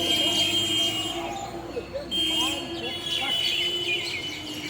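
Many birds chirping together in the distance among trees at Chittaranjan railway station, a busy layer of high tweets over steady background hum.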